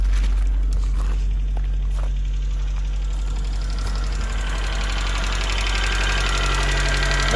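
An Opel Kadett GSI engine, restarted after twelve years unused, idles steadily with a low constant rumble and a faint ticking knock, close by and loud throughout.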